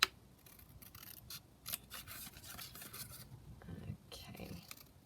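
Scissors cut paper for a junk journal, making a few quiet crisp snips and rustles close by, with soft talk faint in the background.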